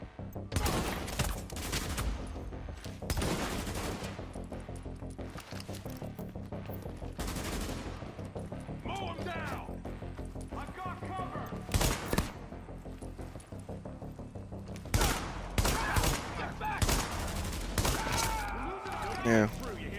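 Repeated gunfire bursts from The Division while shooting a support station, sharp loud volleys separated by short pauses, with game effects and occasional talk in between.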